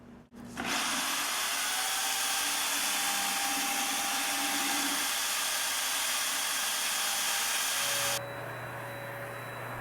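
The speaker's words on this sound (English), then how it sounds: "mix it with the blender at a much higher speed" A blender whirs at high speed mixing metallic Plasti Dip and Pearlizer in a gallon can, starting abruptly after a clunk, holding a loud steady whine for about eight seconds, then dropping to a lower hum.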